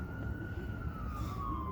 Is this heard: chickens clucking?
no